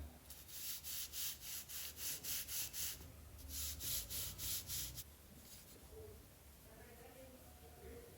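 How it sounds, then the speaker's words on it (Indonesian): A thin 1.5 mm balsa wood sheet for an indoor hand-launch glider is sanded down with short, quick back-and-forth strokes, a close, soft rasping that comes in rhythmic bursts and then stops, leaving faint background noise. "Kita amplas tipis sesuai dengan ukuran yang tertera dalam gambar."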